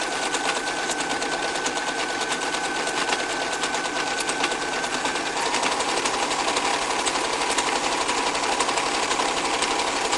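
A sewing machine stitches a towel hood in one steady, continuous whir with a fast needle rattle, close and even throughout with no pauses.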